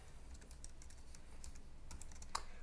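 Keystrokes on a computer keyboard entering a password, a quick irregular run of light clicks with one sharper tap near the end, heard alone over a low steady background hum.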